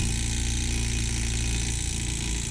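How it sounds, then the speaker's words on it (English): Impact gun working on a tie rod end nut on a BMW E90, a continuous loud, rattling mechanical drone with rapid pulsing that holds steady throughout, close by. "First we're gonna try to remove the nut using impact gun."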